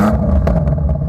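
A 2021 BMW M5 engine turns over with a deep, close, loud rumble and a few quick clattering pulses, brief and alone.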